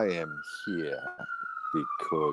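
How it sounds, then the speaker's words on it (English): A police-style emergency siren wails in the background as one long, slowly falling tone, steady and fairly distant beneath continuous nearby talk. "you can hear that siren in the background."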